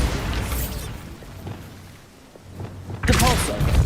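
A Bombarda blasting spell cast in Hogwarts Legacy, heard as rumbling explosive bursts, a dip into quieter rumble, then a sharp loud blast with crackling debris near the end, mixed with game voices.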